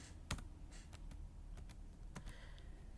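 A computer keyboard is typed on in quick, irregular bursts of crisp clicks while a function name is entered into an Excel formula. The keystrokes are faint and close, with no voice over them.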